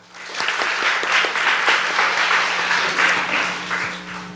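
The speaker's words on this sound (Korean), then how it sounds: "하나님께 박수하시겠습니다" A church congregation at an afternoon worship service claps together, a steady, moderately loud wash of applause that swells and holds for several seconds.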